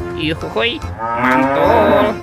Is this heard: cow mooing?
yes